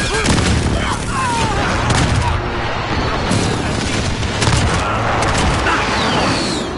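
Explosive booms and rapid gunfire from a precision airstrike in Call of Duty: Modern Warfare on the Shipment map, loud and continuous, with dense blasts layered over game voice callouts.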